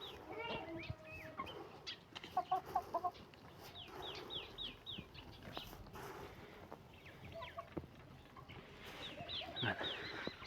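Black chickens and a rooster in a farmyard in Andijan cluck in scattered bursts, with repeated short calls from a few birds at close to moderate distance and someone talking now and then in the background.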